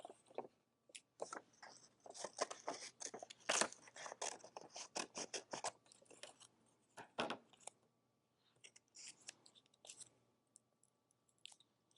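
Scissors snip out pictures of puppies from sheets of wrapping paper for a collage, with quick, crisp cuts in irregular bursts and paper rustling, close and quiet, with no talking.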